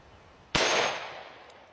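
A .44 Magnum handgun round strikes a titanium plate with a single sharp, loud crack, followed by a bright metallic ring that fades over about a second.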